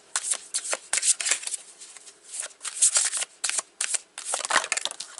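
Tarot cards shuffled by hand for a Celtic cross reading, heard up close as repeated quick riffling bursts with short gaps between them.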